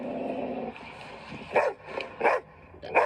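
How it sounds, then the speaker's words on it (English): A pit bull barks three times in sharp bursts at a steady pace, preceded by a low hum and faint background noise. "Want to hear a pit bull?"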